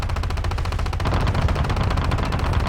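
Sustained rapid machine-gun fire in the War Thunder Mobile game, a dense continuous rattle that stays loud and steady with no voice over it.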